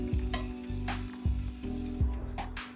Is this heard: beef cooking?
yes